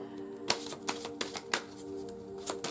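Tarot cards being shuffled by hand, a quiet series of crisp riffling snaps at an uneven pace, close and alone.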